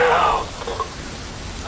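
Rain falls in the video game Metal Gear Rising: Revengeance as a steady, moderately loud patter and hiss throughout, with a voice speaking over it.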